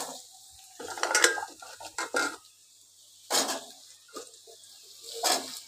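Thinly sliced potatoes go into a pan of frying onions, with a few clattering scrapes and clinks of utensils against the pan in irregular bursts, separated by quiet gaps, and no voices.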